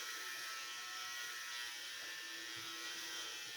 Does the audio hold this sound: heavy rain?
no